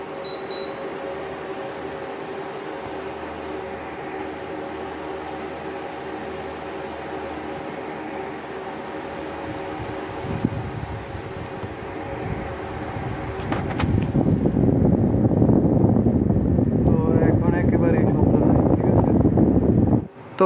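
An LG split air conditioner, just cleaned and fitted with a motor, hums steadily at moderate level, then its fan surges partway through into a louder, rushing airflow that continues to the end.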